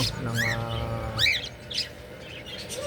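Pet budgerigars, including a Texas Clearbody, chirp and twitter in quick bursts close by in an aviary, with a steady low hum underneath.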